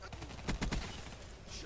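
Kuda submachine gun fired in a video game, a quick burst of three close, loud shots followed by a lingering rumble.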